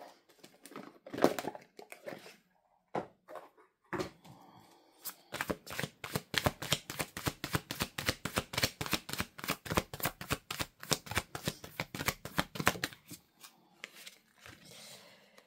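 A deck of angel tarot cards is shuffled close by, with a few loose card handling sounds first and then a long, fast run of crisp, evenly spaced riffling flicks that stop abruptly, all without speech.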